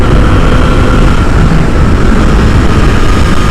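A KTM RC390 motorcycle blasts along tight back roads, its engine a loud, close, unbroken roar holding steady throughout with no voices.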